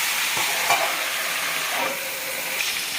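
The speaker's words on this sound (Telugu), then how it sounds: "ఈ బ్రింజాల్ని మనము ఫైవ్ మినిట్స్ ఫ్రై చేసుకోవాలి" Whole brinjals frying under a lid in a covered pan for a Telangana-style stuffed eggplant curry, a steady bright sizzle and hiss with a few faint pops and stirring clatters.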